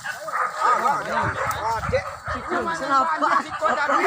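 Hunting dogs bark, yip and whimper excitedly during a wild boar hunt in Solok regency, West Sumatra, close and overlapping, with people talking among them.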